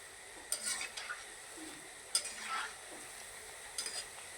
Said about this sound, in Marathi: 2 मिनटं बारीक गॅसवर ह्याला व्यवस्थित तळून घ्यायचं